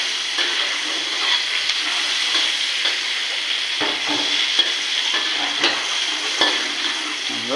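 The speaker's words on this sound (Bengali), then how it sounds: "ভাজি করে নিচ্ছি।" Eight large shrimp coated in turmeric, salt and chili powder frying in a pan, a loud dense unbroken sizzle with occasional faint clinks of stirring, close up and without talk.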